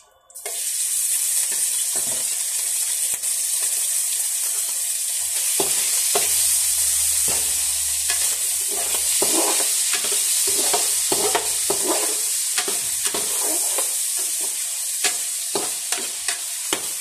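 Pork sizzles steadily in hot cooking oil in a pan for a Filipino sayote sauté, a bright continuous hiss broken by frequent scraping and stirring clicks, with a brief low rumble partway through.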